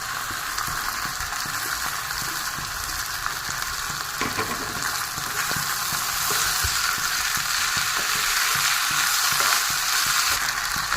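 Potatoes frying in fish oil in a pan give a loud, steady, close sizzle and crackle that runs the whole time, with faint stirring scrapes and no talk.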